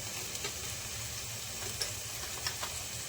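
Spices sizzle in hot oil with roasted tomato, garlic and onion in a pan, a soft steady frying hiss with occasional small pops, quiet and close.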